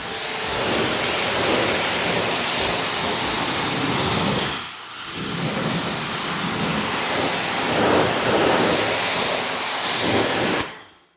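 A Labocosmetica Varius spray misted steadily onto a car engine bay, a continuous close, loud hiss of fine spray lasting about ten seconds with one brief pause midway, no talking.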